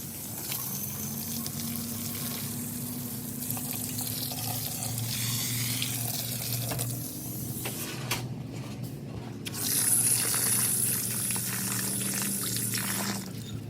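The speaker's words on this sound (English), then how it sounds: "I'm gonna go ahead and rinse it off and then see if there's any excess left over" Water runs steadily from a tap over a scrubbed car valve cover being rinsed after paint stripping, a continuous splashing wash that swells briefly louder midway, with no talking.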